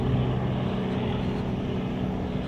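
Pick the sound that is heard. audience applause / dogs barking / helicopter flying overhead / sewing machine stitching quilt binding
helicopter flying overhead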